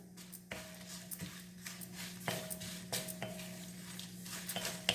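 Sambar ingredients are dry-roasted in a pan until crisp, giving intermittent scraping and stirring clatter of a utensil against metal over a soft, faint sizzle.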